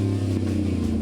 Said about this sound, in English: Our sweepstakes Silverado sports the new Hooker Blackheart Performance exhaust.